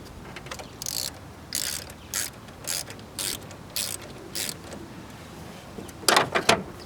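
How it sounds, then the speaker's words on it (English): A ratchet wrench tightens a terminal onto a car battery, a series of about eight short, sharp clicking bursts in a steady rhythm, close and clear, followed by a quicker flurry at the end. "And then I'm going to tighten it the rest of the way when it's secured on the battery."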